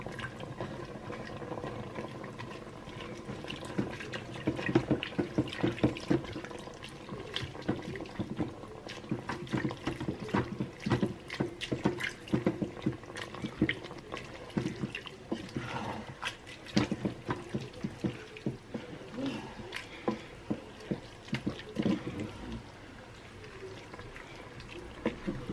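Water poured into a pot for cooking tagliatelle, about 400 ml, a continuous close splashing and gurgling stream with uneven surges, no talking.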